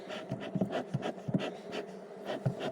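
Close buzzing of honeybees mixed with irregular bursts of movement and handling noise as bees are shaken off, fluctuating in loudness.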